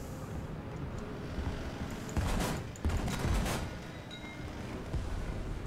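Anti-aircraft gun in War Thunder firing in sustained bursts, with heavier blasts clustered near the middle, against a constant roar of battle noise.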